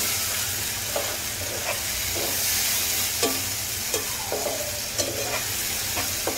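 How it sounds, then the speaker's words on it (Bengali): A spice paste of chili powder and salt is fried and stirred in a pan for a potato and dried kachki fish dish. A continuous hissing sizzle is broken by regular scraping strokes of a spatula, about one each second. "এবার মশলাটাকে খুব ভালো করে কষিয়ে নিতে হবে।"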